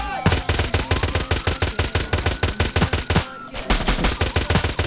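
Rapid gunfire in GTA San Andreas, dense bursts of automatic shots hammering out in a loud, continuous volley with a brief pause before the shooting resumes.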